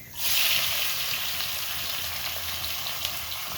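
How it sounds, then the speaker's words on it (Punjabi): Onions sizzle in hot oil with toasted cumin in a pan, a steady broad hiss that swells in quickly and holds at an even, close level throughout. "ਜੀਰਾ ਆਪਣਾ ਭੁੱਜ ਚੁੱਕਾ ਹੈ ਹੁਣ ਆਪਾਂ ਦੋ ਜਿਹੜੇ ਪਿਆਜ਼ ਕੱਟੇ ਸੀ ਪਿਆਜ਼ ਵਿੱਚ ਪਾਵਾਂਗੇ"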